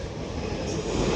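A Class 351 London Northwestern Railway train at London Euston station rumbles and rattles steadily at close range, a dense continuous roar of wheels and carriages.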